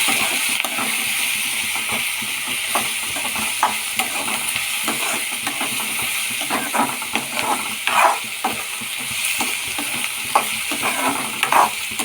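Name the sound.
egg tempering sizzling as it fries in the pan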